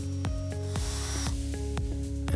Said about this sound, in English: Drill 2 inches into the one end of the top rail